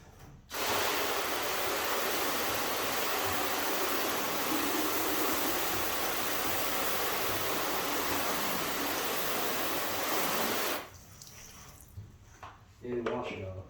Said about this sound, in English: So let's rinse it off.